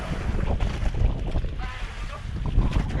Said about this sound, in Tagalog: Malakas pa yung hangin natin dito.